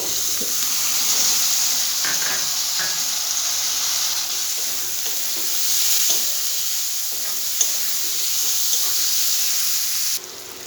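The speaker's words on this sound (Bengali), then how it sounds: "এটা একটু নাড়াচাড়া করে ওর মধ্যে আমি টমেটোর পেস্টটা দিয়ে দেবো" Tomato paste and chopped tomatoes frying in a pan for egg tadka, a loud steady close sizzle and hiss with faint occasional stirring scrapes, a single sharper clink near the end, no voices.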